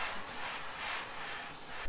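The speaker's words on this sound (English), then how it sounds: "I always like to spray a sealer." A spray can of Createx AutoBorne sealer hisses steadily onto a homemade split-grip ice fishing rod in one continuous, close, even spray.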